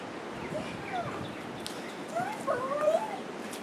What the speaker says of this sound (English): Trey, is that a puppy for us?